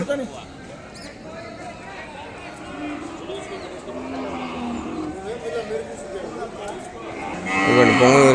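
Cattle and calves low at a busy weekly livestock market, the moos mixed into a dense crowd of voices and traffic noise, rising louder toward the end.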